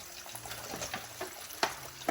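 Crappie fillets fry in hot grease, a soft steady sizzle and bubbling with occasional sharper pops, fairly quiet and close.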